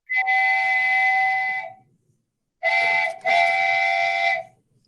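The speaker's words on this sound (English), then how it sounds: "You got to wait for the whistle to stop." A train whistle sounds in two loud, steady tonal blasts. The first lasts about two seconds, and after a pause comes a longer blast with a brief break. It is clear and close, with no talk over it.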